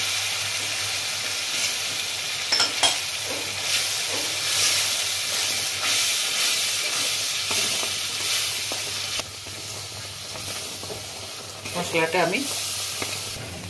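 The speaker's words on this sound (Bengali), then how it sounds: "মশলাটা এই কারণেই ভাজছি, এর মধ্যে চিংড়ি মাছটা আছে" Spice paste with ground shrimp sizzles and hisses steadily in a hot pan, with occasional stirring scrapes and bubbling bursts; no talking.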